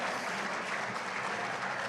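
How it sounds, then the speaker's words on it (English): Applause from the audience at the American Hellenic Council Annual Awards Gala, a dense, sustained wash of clapping held at an even level with no pauses. "Applause."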